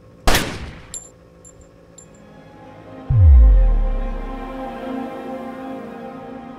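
A single loud gunshot from a video game, an early sharp crack followed by a small echo and later a deep booming impact that slowly fades, with no talking over it.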